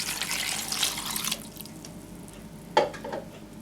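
Water pours into a cooking pot while a spicy curry with turmeric and red chili powder is being made, a steady splashing stream for over a second that fades, then a short clink near the end, with no talking.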